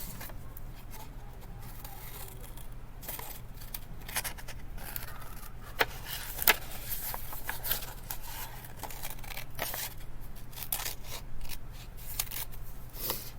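Scissors snip along a curved line as a paper cake shape is cut out. Crisp, irregular cutting clicks and rustles sound close by, with no voices.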